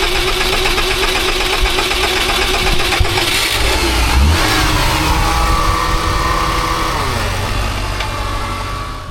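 Older BMW car engine starting up and revving, loud and close, with rising and falling engine pitch that settles toward a steady idle.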